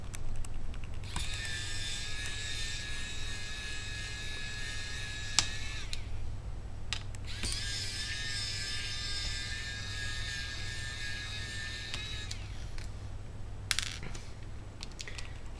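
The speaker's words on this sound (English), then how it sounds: "If you're interested in this little mini screwdriver, it's battery powered." A small battery-powered mini screwdriver whirs in two steady bursts of several seconds each while taking screws out of an Asus Eee T91 laptop, close and fairly quiet, with light clicks and handling noise between runs.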